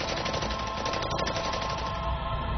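Machine gun fire sounds as a dense, continuous rattle of rapid shots, loud and unbroken, with a thin, muffled, archival quality.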